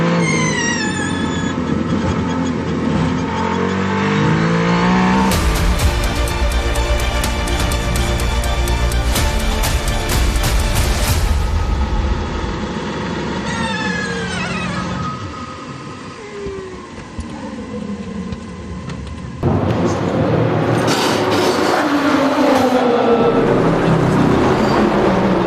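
A Ferrari race car engine at the Le Mans 24 Hours snarls and howls at high revs, the pitch sweeping up through the gears and dropping on lifts, with passing traffic swelling loud and fading past the microphone.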